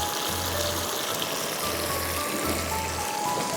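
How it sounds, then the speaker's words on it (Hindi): Water is poured into a cooking pot holding almonds and other ingredients for a gravy, a steady rushing trickle running continuously, close and moderately loud, with a low hum pulsing underneath. "अब इसमें मैं डालूंगी पानी,"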